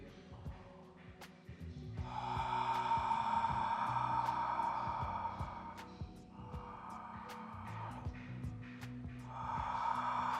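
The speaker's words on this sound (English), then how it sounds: "Inhale, keep your mouth open and exhale." Three long, breathy open-mouth exhales, like fogging a mirror, during Ujjayi pranayama breathing practice. They are close and steady, separated by short pauses, with faint room noise between them.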